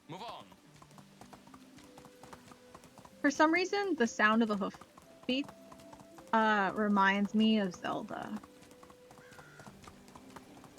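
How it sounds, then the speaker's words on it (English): Horse hoof beats in the video game Medieval Dynasty, quiet steady clip-clop at a walking rhythm running underneath two bursts of someone talking. "For some reason, the sound of the hoof beats"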